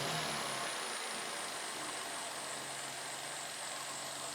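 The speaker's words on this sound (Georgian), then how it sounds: "დავქოქოთ, ნახოთ როგორ დაიქოქება, როგორ იმუშავებს ძრავი" Mercedes W212 E350 with the M276 engine idles after its first start following variable valve timing repair and valve decarbonising: a steady, even mechanical hum with no voices.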